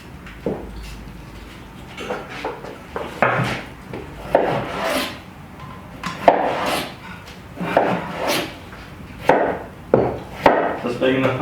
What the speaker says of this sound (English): could you please divide the turnips and the potatoes into cubes?